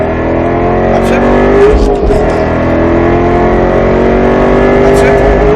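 A Roush Mustang RS3 on a race track at Speed Vegas, its engine roaring loud and close as it accelerates, pitch climbing steadily with a brief dip around an upshift. Talk is faintly mixed in.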